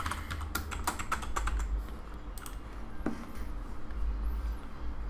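Computer keyboard keys are tapped in quick irregular bursts, then a pause and a few more strokes, close and clear over a low steady hum, with no one speaking.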